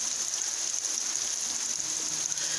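Steady rain falls close by in a soft, continuous hiss, even and unbroken from start to end, with no voices over it.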